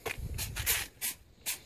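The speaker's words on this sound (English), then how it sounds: "we're spraying down the truck surface" Short bursts of soap-and-water solution sprayed onto a truck surface and its decal, three or four quick hisses in close succession, near and fairly quiet.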